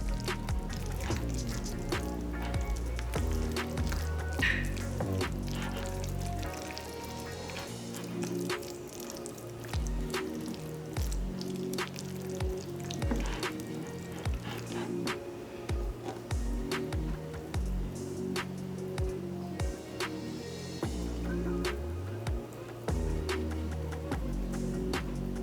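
Bare hands working a ricotta, mozzarella and spinach stuffed-shell filling in a bowl, with soft wet squishing and squelching that repeats close by for the whole stretch, with no talk.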